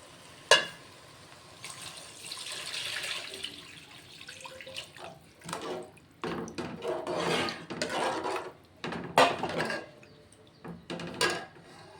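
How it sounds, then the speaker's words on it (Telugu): Water poured into a cooking pot of chukkakura (sorrel leaf) pulao, a broken run of splashing and trickling with some clatter, fairly close and moderately loud, no talk. "ఇప్పుడు ఇందులోనైతే సరిపడా వాటర్ వేసుకుందాం."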